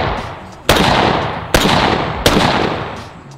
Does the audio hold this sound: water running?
no